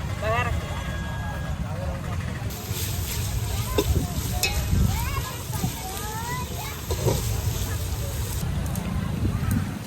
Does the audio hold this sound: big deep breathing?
no